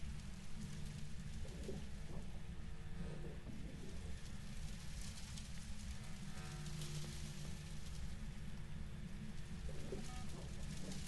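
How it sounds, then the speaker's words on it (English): Steady, loud rain pours throughout the Phasmophobia game map, a dense continuous hiss with no speech over it. "The rain is so loud."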